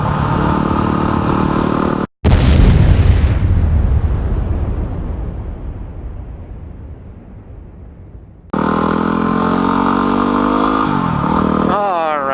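A motorcycle engine on a road ride starts with a loud rev, hums steadily, then cuts out abruptly before wind and engine noise return loudly.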